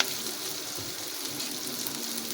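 Masala-coated pieces of lote fish hit a hot frying pan for bhujia, giving a steady, close, bright sizzle of hot oil that hisses evenly throughout with no talking.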